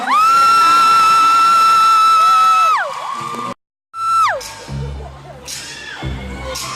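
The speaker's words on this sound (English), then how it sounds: "Can we please give a round of applause to the guys who took the" Fans at a GOT7 fan meeting in Vancouver scream and cheer in a loud, sustained roar of high-pitched voices, which breaks off suddenly into a brief silence before the shouting and cheering surge back up.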